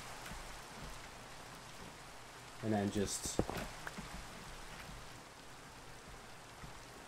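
Rain in Minecraft, a steady faint hiss of falling rain that runs throughout, briefly masked midway by a short burst of speech.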